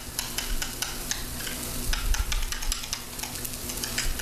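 A spicy chipotle and cilantro dish stirred in a hot pan, with repeated scraping strokes of the utensil over continuous sizzling, close and without talk.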